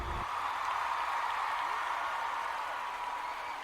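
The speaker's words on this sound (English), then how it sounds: "the crowd erupted in a standing ovation" A large crowd gives a standing ovation to a young poet after her poem at a national ceremony, a steady wash of applause and distant cheering that holds at an even level throughout, with no talking over it.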